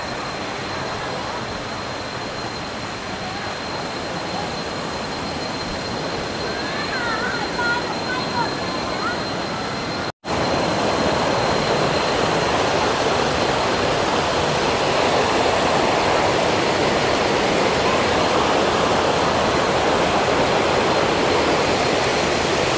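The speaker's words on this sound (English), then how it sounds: "I get down here to this waterfall" Waterfall at Pala U in Hua Hin, a constant broadband rush of falling water heard close by; the roar jumps louder after a brief cut partway through, with faint chirps early on.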